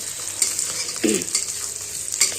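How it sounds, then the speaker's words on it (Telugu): Food frying hard over a high flame for lunch and dinner sides, a steady close sizzle with a brief louder stir-scrape about a second in and light clinks near the end. "ఇది ఫ్రై చేసేటప్పుడైతే ఫ్లేమ్ పెద్ద పెట్టుకుంటున్నాను"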